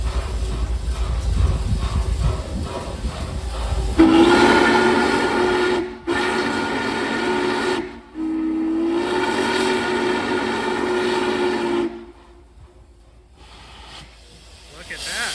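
Norfolk and Western 611 steam locomotive starting out after waiting for a freight train, a steady loud hiss and rumble with a sustained whistle-like tone, briefly cut off and resuming, fading near the end; people talk nearby.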